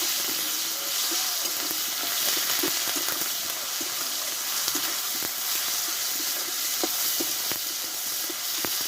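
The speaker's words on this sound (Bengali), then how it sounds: "আর দেবো একটা বড় সাইজের টমেটো অল্প রেখে দেবো হলুদ গুঁড়ো দিয়ে আদা টমেটো ভালোভাবে একটু কষে দেবো" Ginger and tomato frying in a pan with turmeric powder give off a steady, close hiss of sizzling, with scattered small pops and crackles throughout.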